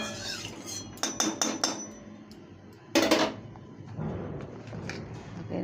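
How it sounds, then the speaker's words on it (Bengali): Oil being stirred in a cooking pan with a metal utensil, giving sharp clinks and taps against the pan in a few quick clusters, fairly close and moderately loud. "তেলটা একটু আমি নাড়িয়ে নেব।"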